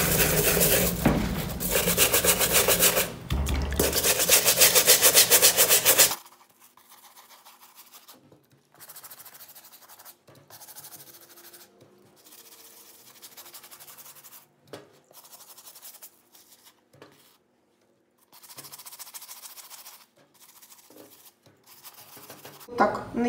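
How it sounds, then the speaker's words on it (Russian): Stiff brushing and rubbing on light-colored suede sneakers, loud and close for the first six seconds, then fading to quieter, scattered scrubbing strokes. "Так натереть 5 минут."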